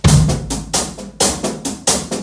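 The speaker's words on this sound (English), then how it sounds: "There's several options how to play a hi-hat." Drum groove in a lopsided five-count with crisp hi-hat strokes and periodic heavier hits, looping in an uneven repeating pattern, close and unaccompanied.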